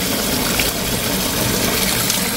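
Water pouring steadily into a container at close range, a continuous broadband gushing rush with no pause or talk.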